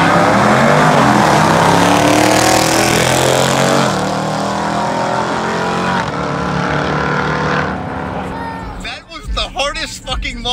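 Jeep Trackhawk engine racing on a track, a loud sustained roar with shifting engine pitch that fades near the end, while the excited driver talks over it.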